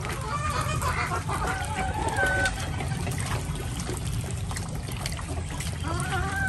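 Chickens and ducks on a small ranch on a rainy day, with repeated clucks and honking calls scattered over a steady background wash, fairly near.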